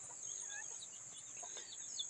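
Farmyard chickens cluck softly in the distance, faint scattered calls over a quiet background with a steady high insect-like hiss.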